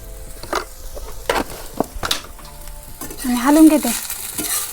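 Wild greens and onion with salt sautéed in a pan, irregular scraping and tossing strokes over a crackling sizzle that builds louder toward the end, close by and with no one talking.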